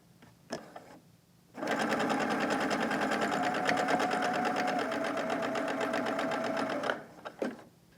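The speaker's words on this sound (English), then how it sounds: "and I'm ready to sew" A sewing machine fitted with a quarter-inch foot stitches quilt four-patches, running steadily for about five seconds with a dense, even mechanical whir, framed by a few handling clicks and taps before and after.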